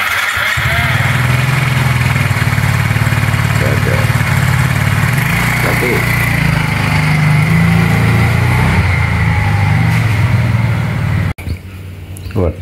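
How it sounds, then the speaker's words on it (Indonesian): An old motorcycle engine idling close by at a home, a steady loud low chugging drone that runs for about eleven seconds before cutting off, with people talking over it. "Motor jadul itu, masih nanti pakai."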